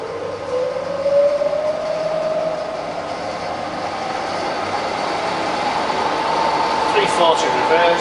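A rebuilt Bridgeport milling machine runs in reverse at 60 RPM, giving a steady, close mechanical whine with a rising tonal hum and constant motor drone throughout, no voices over it.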